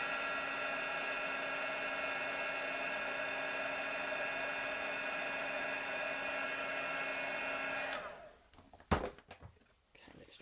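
A heat embossing tool blows hot air steadily over a handmade Christmas card for about eight seconds, a loud even whoosh that cuts off abruptly, followed by a few faint handling knocks.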